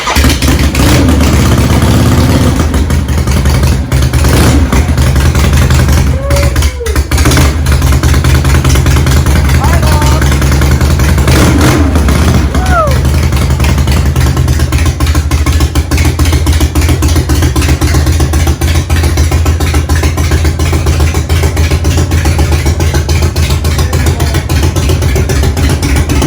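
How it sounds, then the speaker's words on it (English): A 1973 Harley-Davidson Ironhead Sportster motorcycle engine starts and runs, a loud, close, continuous rumble with a few revs rising and falling, as people talk over it. "Our 73 Ironhead Sportster. It's going to hopefully start here."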